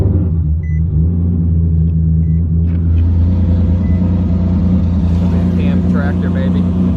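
A single-turbo Nissan 370Z engine runs on a cold start, giving a loud, steady, deep rumble with slight swells in revs throughout, and a voice speaks briefly near the end.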